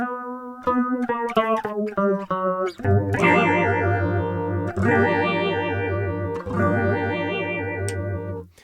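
A synth tone run through a studio chorus, flanger or phaser unit with a fast modulation rate, starting as choppy stepped notes and swelling into a sustained, wavering, hollow ghost-like drone with sweeping overtones and echoey tails.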